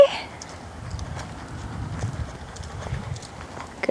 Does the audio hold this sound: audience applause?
no